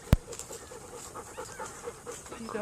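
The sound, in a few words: dogs panting after a walk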